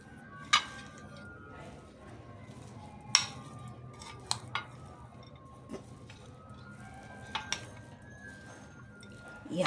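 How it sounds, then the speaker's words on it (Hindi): A spoon mixing dates and dry fruits in a bowl for sugar-free laddu, a few sharp clinks and scrapes spaced over a quiet background. "तो ये अब इसको मिक्स कर देते हैं इससे"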